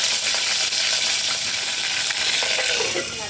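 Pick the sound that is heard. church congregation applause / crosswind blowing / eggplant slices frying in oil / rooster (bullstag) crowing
eggplant slices frying in oil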